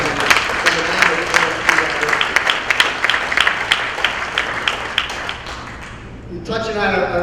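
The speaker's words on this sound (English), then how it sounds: "they are the ones that really deserve a round of applause" An audience at a city State of the City address applauds the safety forces, with dense, lively clapping for several seconds that fades out as a voice begins speaking at the end.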